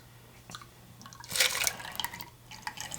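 A drink from a shooter glass draining and dripping over ice, with scattered close liquid drips and trickles, a louder splashing burst in the middle, then more light dribbling.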